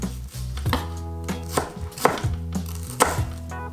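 A knife chops through half an onion on a cutting board, making sharp, close, irregular thuds of about eight cuts in under four seconds, with no talking.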